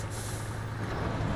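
Engine of a Freightliner M916A1 military truck with a tag-behind trailer backing up slowly in SnowRunner, a steady low diesel rumble and hiss holding at one level throughout, with no voices.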